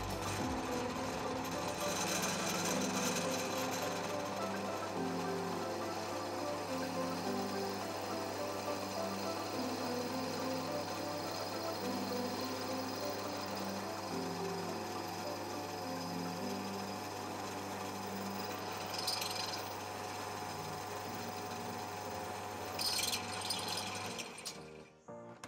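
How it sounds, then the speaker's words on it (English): A steady mechanical whine of a drill boring into aluminium workbench dogs runs continuously for about twenty-five seconds, loud and close, with a brief higher screech near the end. "now it's time to pre-drill a hole in our aluminium dogs"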